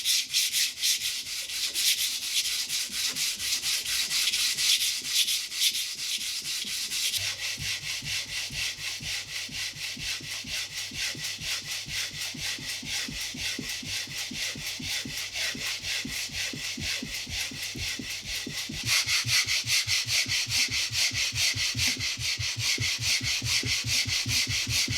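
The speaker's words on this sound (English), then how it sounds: "Overall it takes about 8 to 10 hours of sanding, which of course I do over a period of a week or two." A multi-layered resin sculpture is hand-sanded with wet and dry paper in fast, rhythmic back-and-forth strokes, a steady gritty scraping that carries on for a long stretch with no talking.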